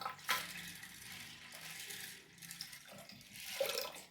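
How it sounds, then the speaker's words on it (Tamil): Water pours from a tap into a pot of dal meant for pressure cooking, two bright splashing bursts near the start and end with a softer trickle between, close and without talk. "ஸோ 2 கப்பு தண்ணி ஆட் பண்ணிக்கிறேன்."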